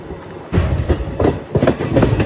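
The Machilipatnam Express 17220 running at night, a loud rumbling interior roar with rhythmic clickety-clack bursts from the wheels crossing rail joints, swelling and easing in repeated waves.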